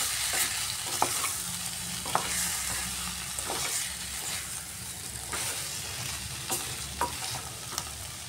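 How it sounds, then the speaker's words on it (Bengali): Potatoes being stirred with spices in a hot pan, with a steady sizzle and frying hiss under repeated scraping strokes of a spoon against the pan, close up and fairly loud, with no talk. "আলুটা দিয়েও একটু মশলার সাথে আমি ভালোভাবে মিক্স করে নিচ্ছি।"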